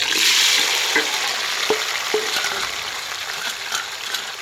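Tomatoes frying in leftover oil for shahi paneer, a continuous loud sizzle with a few stirring scrapes and spoon knocks scattered through, no talking.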